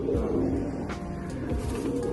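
Pigeons kept by a Punjabi pigeon fancier, a racing-bred bird in hand, coo in low repeated murmurs through a busy, steady background of noise.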